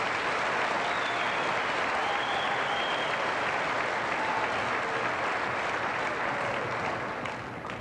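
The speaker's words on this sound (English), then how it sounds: "Let's give these students a round of applause." A large graduation-ceremony audience at a 1997 high school commencement claps steadily for graduating students, a dense continuous wash of hands that tapers slightly at the end, with no talking.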